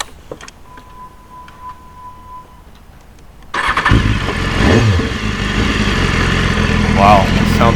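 A 2015 BMW S1000RR motorcycle cranks and fires into a loud, close idle after a few quiet seconds of a faint electronic tone, then settles into a steady rumble with a brief blip of throttle.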